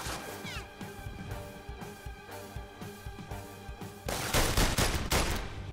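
Rapid gunfire bursts in The London Heist, a PlayStation VR shooter, rattling over a steady musical bed and growing denser and louder in the final two seconds.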